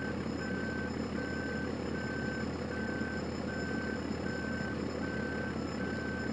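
Steady, evenly spaced reversing beeps from a truck in Farming Simulator 2013, sounding over a continuous engine drone and carrying on without a break from start to finish.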